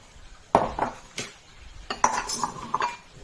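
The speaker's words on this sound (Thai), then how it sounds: "หัวหอมจ้ะใส่เข้าไปเลย" Chopped onion tipped into a bowl or pan while burger patties are prepared, giving a few clinking, scraping knocks of utensils against cookware in two short bursts, close and fairly quiet.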